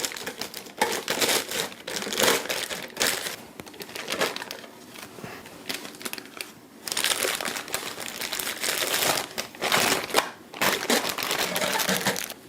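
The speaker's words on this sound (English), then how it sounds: "you'll take your pastry bag, put it over the holder" Plastic pastry bag crinkling as it is pulled over a holder, loud close crackling in bursts with brief pauses between them.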